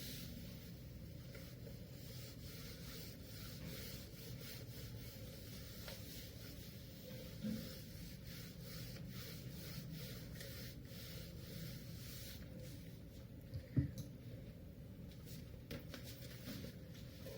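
A teacher wipes writing off a classroom board with steady, faint rubbing strokes that continue over a low background hum, with one brief knock near the end.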